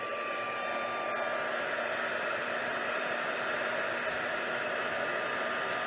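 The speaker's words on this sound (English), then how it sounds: "let me get my heat tool. So I'm going to be noisy just for a little bit." A heat embossing tool blows with a steady, loud broadband whoosh like a hair dryer, running continuously without pause from start to finish.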